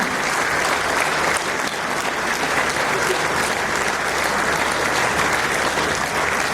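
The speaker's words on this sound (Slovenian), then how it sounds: "dragi Milan, en lep aplavz" A festival hall audience on Bled gives warm, sustained applause for Milan, a dense steady clapping that holds evenly throughout without any talk.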